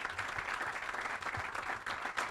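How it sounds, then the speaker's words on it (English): Applause for a team at a hotel groundbreaking ceremony, a fairly quiet continuous patter of hand clapping from a small gathered crowd, heard from a little distance with no talk over it. "I want to give you guys a round of applause"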